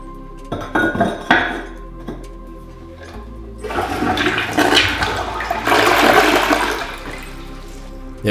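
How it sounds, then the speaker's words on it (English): A newly installed toilet tank filling with water for the first time after a bathroom remodel: scattered clunks and clinks at the start, then a steady rushing, hissing inflow that grows louder and continues without talk. "turn the water on to fill the tank for the very first time"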